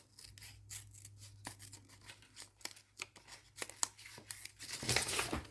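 Scissors snip around a paper bird image cut for a junk journal, a quiet run of close, irregular crisp snips and paper rustles, ending in a brief louder crinkle.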